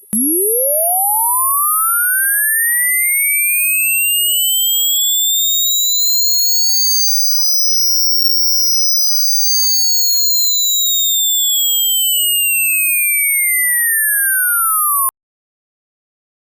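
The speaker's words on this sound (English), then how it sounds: "this is one where we've allowed aliasing to occur" An aliased swept sine test tone rises in pitch but folds back, with mirrored tones sweeping up and down and crossing midway, a steady, loud electronic whine lasting about fifteen seconds before stopping abruptly.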